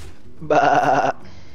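A sheep bleats in the card game Hearthstone, a single short nasal baa lasting about half a second, clear and close, alone against a quiet background.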